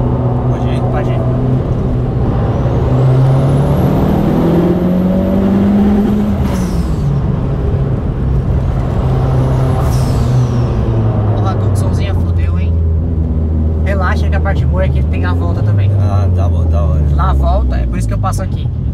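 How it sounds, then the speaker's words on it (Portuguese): A Fiat Linea Turbo accelerates uphill, its engine droning loud and steady as the revs climb and shift, with a turbo whistle rising above it and people talking inside the car. "Aí você vai pegar pra esquerda e subir acelerando"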